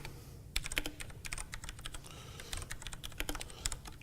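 Quick bursts of typing on a computer keyboard, close and crisp, with clustered key clicks and brief pauses between runs, no voices.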